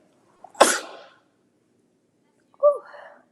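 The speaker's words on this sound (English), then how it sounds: "I know you're not supposed to sneeze into your hands" A single sharp sneeze, close and loud, followed after a pause by a brief breathy exhale or sigh; no speech otherwise.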